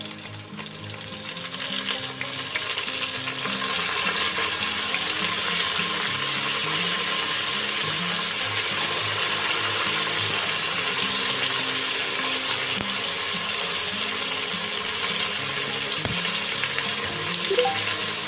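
Tomatoes go into lightly browned onions frying in a pan for aloo gobi, bringing a steady, close, loud sizzle that holds for the whole stretch with occasional stirring scrapes and no talking.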